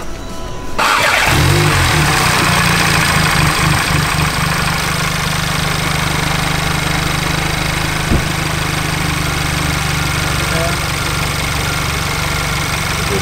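A 2017 VW MK7 GTI engine cranks and catches after a brief quiet moment, then settles into a steady, fairly loud idle that drones on for the rest of the clip.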